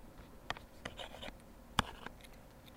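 Pencils scratch on paper in a physics classroom, heard as faint, sparse strokes and taps spread across a quiet moment.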